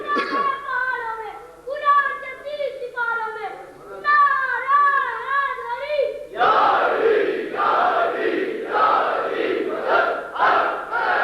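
A large crowd at a religious majlis chants a slogan in loud unison, first a drawn-out call-and-response with sustained voices, then a sharper, more forceful burst of rhythmic shouted repetitions, close and filling the space.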